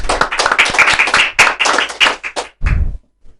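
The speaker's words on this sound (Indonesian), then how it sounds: "Tepuk tangan dong untuk Pak Rizky Ramadhani." A small podcast audience claps for a guest, a school's multimedia department head, with a quick run of close, distinct hand claps that thins out and ends in a couple of thumps before going quiet.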